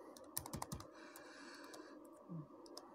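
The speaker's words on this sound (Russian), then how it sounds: "Вводим логин, пароль," Login and password being typed on a computer keyboard while setting up a network camera: quick, irregular clusters of light key clicks, close and fairly quiet, alone with no talking.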